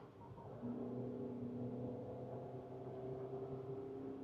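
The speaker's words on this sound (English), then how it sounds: "I'm going to drop the gears making use of these paddles. Listen to the engine now." A Maruti Suzuki Victoris engine hums inside the cabin as the driver downshifts with the paddles, a low, steady rumble that rises slightly in pitch and stays muffled and even throughout.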